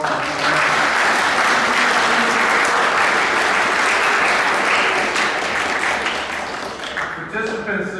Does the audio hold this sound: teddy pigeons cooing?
no